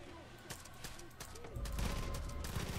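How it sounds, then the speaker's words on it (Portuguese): Sharp gunshots crack at irregular intervals in Far Cry 5, then a denser burst of rapid fire with low rumbling, all fairly quiet and game-like. "Eu erro todos os tiros, velho."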